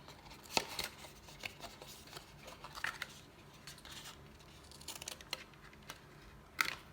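Scissors snipping through paper tabs of a small treat box, a series of sharp close cuts at irregular intervals with faint handling rustles between them and no talking.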